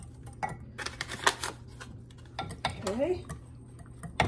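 Spoon stirring brown gravy mix into meatballs in a slow cooker, with clinks and scrapes against the crock in an irregular rhythm, close and moderately quiet, and a person speaking briefly.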